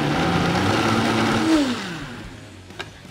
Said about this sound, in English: So then we're gonna throw it into the blender.